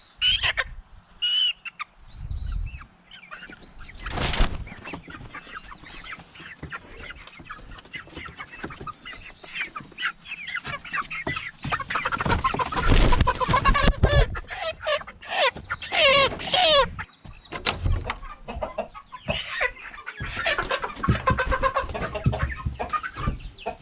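A flock of young hens clucks and chirps steadily inside a pasture coop, busy overlapping calls filling the space close by, with occasional louder squawks and handling noises as birds are caught.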